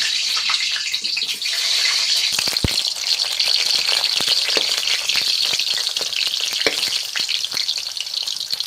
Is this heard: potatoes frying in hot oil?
yes